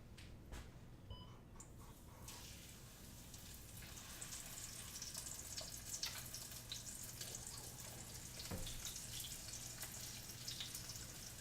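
Breaded chicken fried steak sizzling as it is laid into a hot pan full of oil, a steady close crackle and hiss throughout with scattered pops, no talking.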